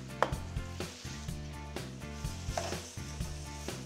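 Seasoned food given a quick stir in a pan over low heat, a soft sizzle under repeated scraping and wooden-spoon knocks in an uneven rhythm, close and fairly quiet, with no talk.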